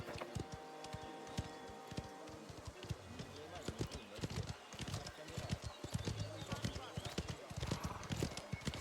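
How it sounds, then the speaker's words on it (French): Horse galloping in the Mafia: The Old Country video game, rapid rhythmic hoofbeats clip-clopping close by with a brief whinny, running steadily beneath someone talking. "Galoper."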